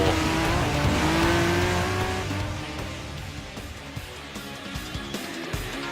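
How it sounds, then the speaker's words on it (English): Entry-level Group 4 race cars such as the Mustang, Vantage and NSX in Gran Turismo Sport roar past with rising engine tones and tire squeal, loud at first and then easing into a lower steady drone, with no talking. "This is a class that represents entry-level race cars that are easy to drive."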